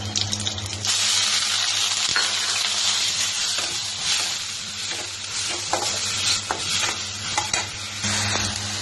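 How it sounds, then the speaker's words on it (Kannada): Onion paste frying in hot oil with cumin, mustard seeds and green chilies, a steady loud sizzle running throughout with scraping stirs from a spoon against the pan. "ಇದನ್ನ ಸ್ವಲ್ಪ ಹಸಿ ವಾಸನೆ ಹೋಗೋವರೆಗೆ ಫ್ರೈ ಮಾಡೋಣ"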